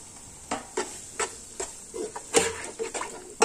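Minced meat frying with yogurt in a pan for dhaba-style aloo keema, heard as soft sizzling broken by repeated sharp spatula taps and scrapes at an irregular pace, close and alone.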